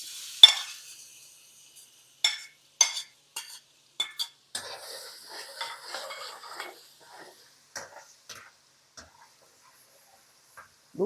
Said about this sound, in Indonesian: Nih, kita tumis dulu bawang putihnya teman-teman.